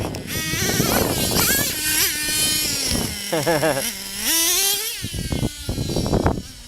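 A Traxxas T-Maxx nitro RC truck with a roughly $200 engine runs off-road, its small two-stroke motor buzzing loud and close, rising and falling with throttle blips, with someone talking over it at times.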